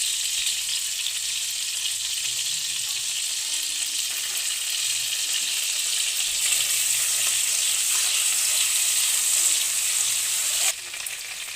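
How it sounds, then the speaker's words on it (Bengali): Chopped garlic sizzles in hot oil in a pan for a Chicken 65 dish, a steady, bright frying hiss that holds throughout with faint stirring, then drops a little near the end. "তেল গরম হয়ে গেছে, এবারে রসুন কুচি দিয়ে দেবো"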